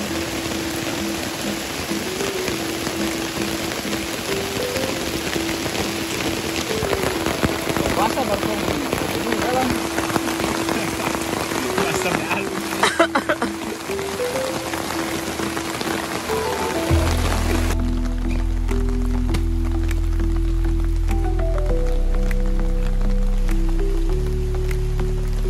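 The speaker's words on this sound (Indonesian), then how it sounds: "yang tidak diinginkan pun datang, yakni hujan mulai turun" Rain begins falling on a rural riverside during a children's fishing outing, a steady broadband hiss of drops on surfaces that holds throughout, joined partway by a low rumbling roar, with no voices.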